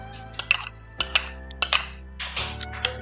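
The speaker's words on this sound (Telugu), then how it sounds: "ఈ ఇంగ్రీడియంట్స్ అన్నీ ఉన్నాయి కదండి అవన్నీ ఈ పిండికి ఇలా కలుపుకోవాలి" A spoon clinks and knocks against a bowl while tempering is stirred into bun dosa batter, with a few sharp taps spread unevenly over a few seconds, close by with no talking.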